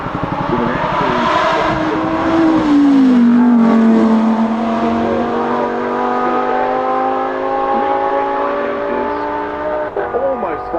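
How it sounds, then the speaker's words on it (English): A reimagined Porsche 911 race car of almost 500 horsepower at the Goodwood Festival of Speed, its engine note rising and sliding through the gears in a loud, sustained roar with a commentator talking over it. "It's the Porsche 911 reimagined."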